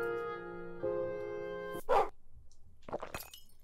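Inside the Roblox game Piggy, after a sustained tonal game sound, a dog gives a sharp bark, followed by a few more short, snappy barks or yips at moderate volume.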